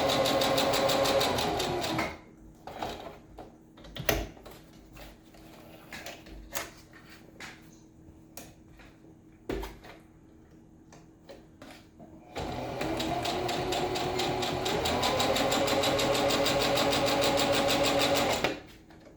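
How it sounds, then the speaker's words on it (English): A sewing machine runs a straight stitch along a homemade fabric mask in two steady, loud whirring runs, separated by a pause of clicks and fabric handling. "Just going to do a straight stitch on this,"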